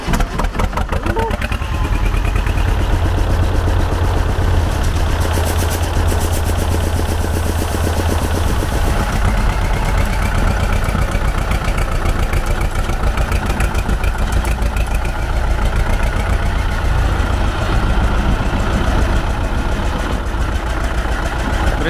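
A turbo tractor engine running just after starting, a loud, steady, close mechanical rumble with a throbbing low idle that holds without a break for over twenty seconds.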